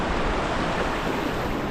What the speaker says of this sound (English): I'm out here on the rapids now.